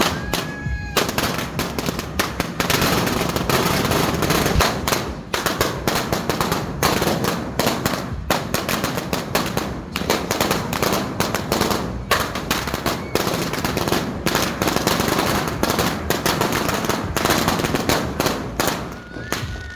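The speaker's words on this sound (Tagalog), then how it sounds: "pagsapit ng alas 12, abay pinasindihan ko ng aking sinturon ni Judas" A long string of sinturon ni Judas firecrackers goes off at midnight on New Year, a loud, nonstop crackling burst of rapid pops that continues almost unbroken for nearly twenty seconds, with no talk over it.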